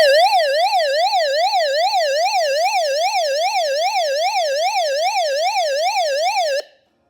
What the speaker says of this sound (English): a long press, and you're going to hear the siren again